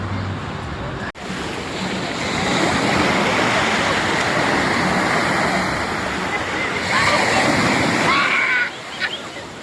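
Sea waves surging onto Ajman beach at night, a loud continuous wash of surf close by that swells and sustains, with a brief dip early on and faint voices near the end.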